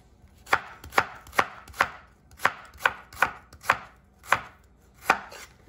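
A knife slices leeks on a cutting board in about a dozen crisp, evenly spaced chops, close and clear with no talking.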